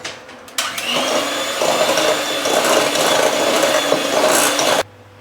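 Coconut walnut cake batter is mixed with the rest of its dry ingredients under a loud, steady mechanical whir that starts abruptly, runs about four seconds and cuts off sharply.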